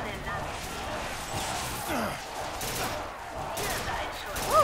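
Gunfire from a weapon in the video game BioShock Infinite, a busy stream of shots and crashes with battle noise running throughout, and a voice speaking over part of it.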